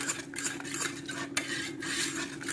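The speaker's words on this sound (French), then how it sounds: "Et on va remuer jusqu'à qu'il fond totalement." Chocolate being stirred into hot cream in a pan while it melts for macarons, a steady scraping and clinking of utensil against cookware with a soft sizzle underneath, continuous and close.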